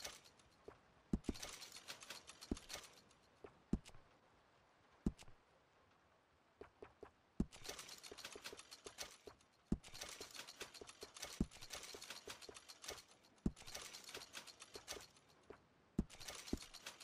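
Gunsmith handling gun parts in Red Dead Redemption 2: bursts of metallic ratcheting and clicking mechanisms with sharp periodic clacks, heard alone at a moderate distance.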